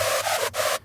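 Sylenth1 screech lead with distortion and a light chorus effect, a wide, hissing, saturated tone pulsing in short bursts with a brief break, loud and close with no voices.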